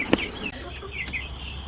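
A few short clucks from Buff Orpington chickens nearby, with a sharp knock near the start and quiet background noise.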